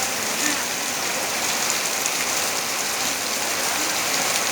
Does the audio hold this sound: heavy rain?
yes